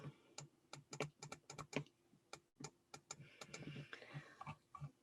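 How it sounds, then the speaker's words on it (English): A computer mouse clicks repeatedly during digital image editing, a quick quiet run of sharp clicks in irregular rhythm with a short pause in the middle, close and alone. "You'll hear me clicking away, low opacity, just losing a few edges."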